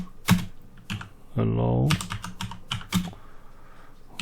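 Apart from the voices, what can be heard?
typing a sudo ufw command on a computer keyboard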